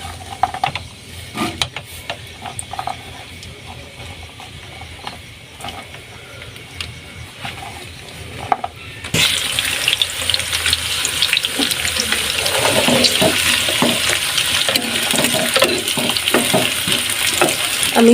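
Chopped onions drop into about 100 grams of hot oil for an egg tarka, and a loud, steady crackling sizzle starts suddenly after quieter clinking and kitchen clatter. The sizzle stays close and continuous with no talking.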